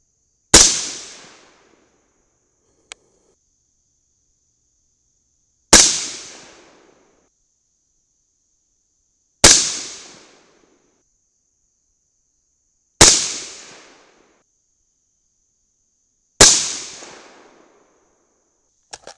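Five sharp, loud rifle shots from a cold gun firing a five-shot group of Mk 262 clone handloads, evenly spaced several seconds apart, each cracking with a short decaying echo in otherwise quiet surroundings.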